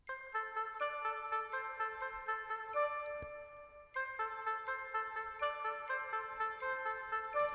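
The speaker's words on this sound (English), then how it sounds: "So like if I just play the Glock, the bells." Glockenspiel bells ring out a few bright, sustained notes in a short repeating pattern, each struck tone clear and lingering, with a brief pause before the phrase resumes; no talking.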